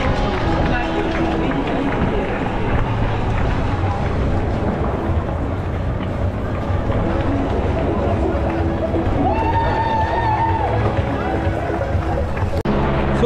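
Busy crowd din at the Hamburger Dom funfair on the Heiligengeistfeld in Hamburg, a steady loud wash of babble, ride machinery and fairground noise, with a brief tonal whine near the end.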